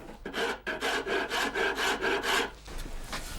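A hand saw cuts crosswise into the tenon of a wooden cart-wheel spoke, making about eight close, rhythmic rasping strokes that then stop, leaving a few faint scrapes.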